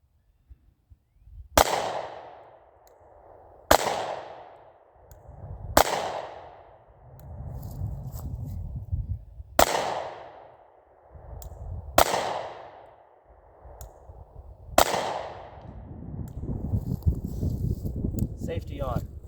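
Sig P365 micro pistol firing six loud, sharp shots spaced a couple of seconds apart, each with a decaying echo tail, as someone talks between the shots.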